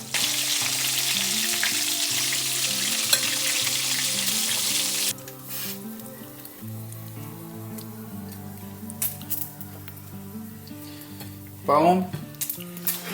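Yellow Jack fish bites frying in a pan, a loud steady sizzle that suddenly drops away, followed by softer crackling, clinks and a brief voice.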